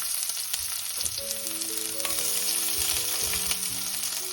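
Onions and green chili sautéing in a pan after mustard seeds, cumin and dal have been fried in oil, a steady moderate sizzle with soft stirring scrapes and a faint tonal hum underneath.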